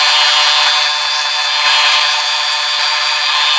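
A folding knife scale is sanded flat and smooth on a power sander, giving a loud, continuous gritty hiss that persists with slight variations.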